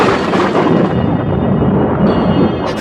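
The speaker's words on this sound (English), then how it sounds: "Thunder crashed outside the house" Thunder crashes outside a house in a dramatized audio story, a loud, dense rumble rolling on steadily for a few seconds with no voice over it.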